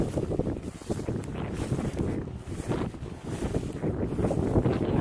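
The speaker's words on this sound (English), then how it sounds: "the freaking wind's gonna probably talk over and do this video now" Gusty wind buffets the microphone outdoors on a hay farm, a steady low roaring rumble with rising and falling surges that fills the whole stretch.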